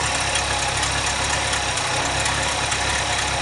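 A 1954 Packard Clipper V8 with a small exhaust leak idles steadily, giving a dense, continuous rumble with a faint uneven ticking throughout and no speech.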